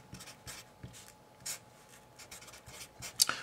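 Marker or chalk writing on a board during a chemistry lesson on solution concentration, soft scratchy strokes in short bursts, faint and close, with no talking.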